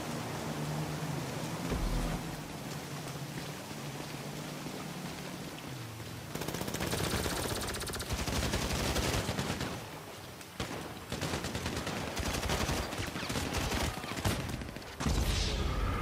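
Gunfire during a GTA V Online heist, the Pacific Standard job with motorcycles: rapid automatic bursts and scattered single shots crackle steadily, growing louder and denser from about six seconds in, with brief pauses between volleys.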